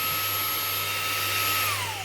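A Xiaomi Mi Vacuum Mini handheld vacuum runs in turbo mode, a loud, steady high-pitched motor whine with a strong airflow hiss that starts to wind down at the very end.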